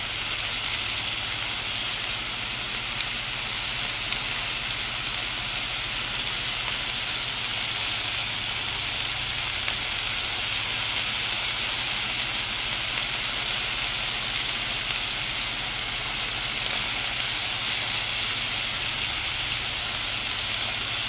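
A cabbage hamburger steak fries over an alcohol burner, giving a steady, even sizzle and hiss that runs unbroken throughout at moderate loudness, with no voices.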